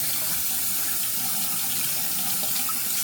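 A tap runs steadily into a sink during a wet shave, a constant close rushing splash with no other sounds.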